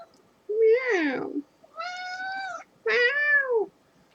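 A house cat meows three times, wanting to be let outside. The cries are close, clear and drawn out, with brief pauses between them and a quiet room behind.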